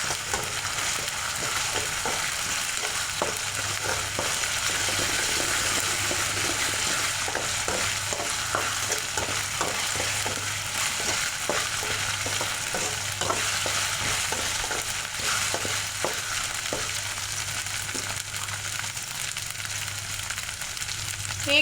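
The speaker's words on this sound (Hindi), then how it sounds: "अदरक लहसुन का कच्चापना गए तक इसको अच्छे से फ्राई करेंगे।" Ginger and garlic fry for dhaba-style moong dal tadka, a continuous oily sizzle with frequent scraping and clicking strokes of a spoon stirring the pan, close and steady throughout without speech.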